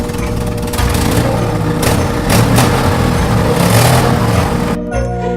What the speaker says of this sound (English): very soon they could hear his truck motoring towards them